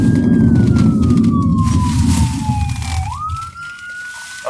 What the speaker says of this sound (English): Y'all need to let the ambulances go.